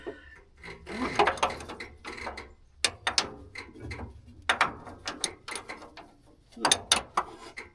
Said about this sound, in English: Let's see if I can get my wrench on it.